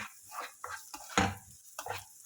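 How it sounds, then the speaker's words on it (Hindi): Onions being stirred as they fry in a pan for tawa pulao, giving a soft sizzle with scraping strokes of a spoon, one louder scrape near the middle, close by with no talk. "ऑनियंस को भी थोड़ा सा मिक्स कर लेंगे,"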